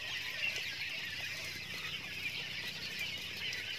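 Over a hundred young quails crowded in a netted coop, giving a constant dense chorus of high chirping and soft clucking with occasional wing flutters, steady and moderately close.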